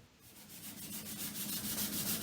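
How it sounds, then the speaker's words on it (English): 220 grit sandpaper rubs rhythmically against the wooden interior of guitar sides, close-up strokes of soft scratchy friction that grow steadily louder. "here I'm going to be sanding the interior with 220"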